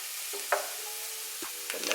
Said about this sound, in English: We're just gonna stir it all together.